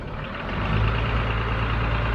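A delivery truck carrying utility poles runs close by with a steady, loud engine drone and low rumble that swells slightly and holds for a couple of seconds.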